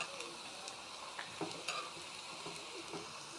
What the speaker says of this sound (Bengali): আমার কিন্তু পেঁয়াজি ভাজা প্রায় শেষ। এই যে অনেকগুলো এখানে ভাজাও হয়ে গিয়েছে, আর এই যে বাকিগুলো এদিকে হচ্ছে।